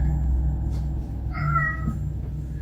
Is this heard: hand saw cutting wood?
no